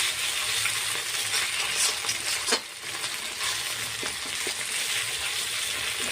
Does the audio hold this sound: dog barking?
no